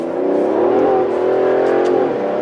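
An Aston Martin DB11 V12 accelerates in first gear on a wet road, its engine note rising in a loud, smooth, sustained drone heard from inside the car, then easing near the end.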